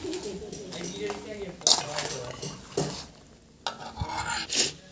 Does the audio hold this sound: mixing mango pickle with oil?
yes